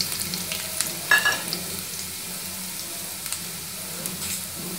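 Chopped garlic sizzles in hot refined oil for a vegetable biryani, a continuous close frying hiss broken by a couple of brief clinks and scraping bursts, with no voices.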